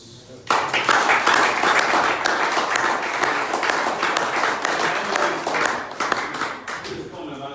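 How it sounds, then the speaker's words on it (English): An audience at a town hall meeting in Athens, Greece breaks into applause after a brief quiet start, a loud, sustained patter of many hands with individual sharp claps standing out near the end. "please, I want you guys to give a round of applause for Vince"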